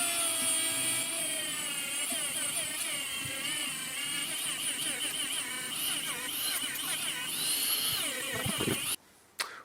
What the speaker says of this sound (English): I'm using a felt, and this final phase of polishing won't take very long at all.